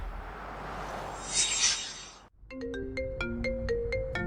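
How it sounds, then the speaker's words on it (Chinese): After a burst of muffled rustling and wind, an electronic phone ringtone plays a bright, repeating melodic pattern of beeping tones, loud and close. "张警官怎么会突然打电话来？"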